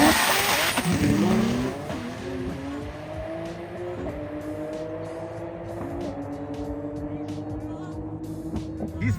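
Nissan GT-R race cars with aftermarket exhaust at a TX2K event, heard as a loud, close engine roar that sweeps upward through rising gear tones as the car accelerates away, with a voice speaking over the noise.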